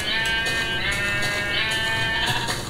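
A Minecraft sheep bleats in several short, repeated calls over a steady, dense game background, close and prominent throughout.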